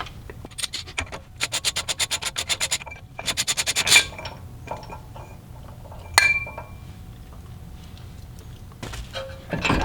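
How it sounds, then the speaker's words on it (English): A hub lock nut is loosened on a Lexus LX470 / 100 Series Land Cruiser during brake pad and rotor work: quick bursts of rapid ratchet-like metallic clicking, then scattered clinks and scrapes of metal parts nearby, with no talking. "we can just loosen this here"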